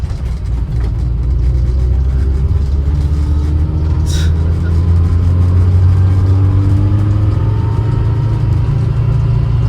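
A car engine hums loudly and steadily on a road in the Peak District near Winnats Pass, its pitch swelling briefly as the driver shifts down a gear, with constant road and cabin noise throughout.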